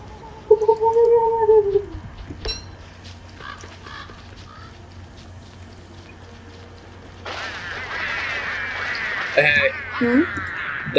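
Penguins or ducks in the video game Don't Starve Together give short honking, quacking calls in a few bursts, heard alongside game sounds, with people talking over them.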